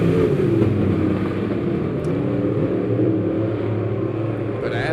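Dirt track race cars roar around the oval at Lebanon Midway Speedway during a heat race, their engines droning loud and steady as a pack, with a commentator talking over the noise.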